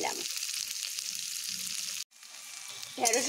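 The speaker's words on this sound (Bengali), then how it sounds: "নুন দেবার পরে আমি ঢ্যাঁড়সগুলোকে একটু বেশ ভালোভাবে ভেজে নেব" Okra fries with salt in a pan, giving off a loud, steady sizzle. The sizzle briefly cuts out near the middle, then returns with stirring noises.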